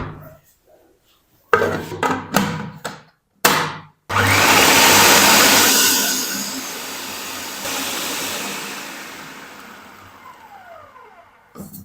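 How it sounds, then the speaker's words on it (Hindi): An electric chopper grinds roasted bread crumbs to a fine powder, opening with several short choppy pulses before a long loud whirring run that gradually eases and winds down. "तो इसको हम शामिल कर देंगे चॉपर में और इनको ना हम बिल्कुल बारीक पीस लेंगे।"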